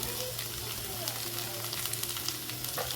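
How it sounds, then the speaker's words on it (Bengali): Chili and turmeric powder frying in oil over an earthen clay stove, a steady close sizzle and crackle with soft stirring scrapes, a low hum running underneath throughout. "ভালোভাবে নেড়ে চেড়ে কষিয়ে নেব"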